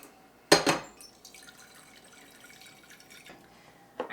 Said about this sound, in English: let's get this pot filled with water so that way we can get the pasta on to boil